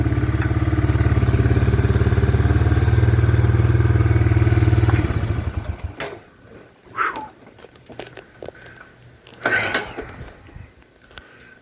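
A 1995 Honda Fourtrax 300 ATV, run after sitting 15 years, idles with a loud, steady, close single-cylinder chug that cuts off around halfway, followed by quieter clunks, thumps and scattered handling noises.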